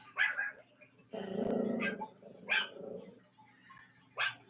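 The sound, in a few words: dog growling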